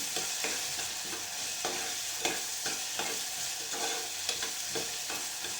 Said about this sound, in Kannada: ಇದು ಕೂಡ ಈರುಳ್ಳಿ ಜೊತೆ ಎಣ್ಣೆ ಜೊತೆಗೆ ಚೆನ್ನಾಗಿ ಫ್ರೈ ಮಾಡಬೇಕು